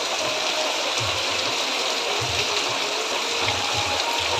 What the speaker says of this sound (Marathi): जोराचा पाऊस पडतोय